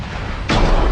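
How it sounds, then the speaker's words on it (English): Incoming fire strikes a modern battleship in a naval video game: a single sudden heavy impact boom cuts in halfway through over a steady low rumble. "Oh, we're taking rounds."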